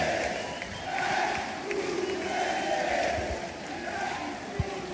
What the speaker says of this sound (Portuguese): É a torcida recebendo o Bruno Mendes de volta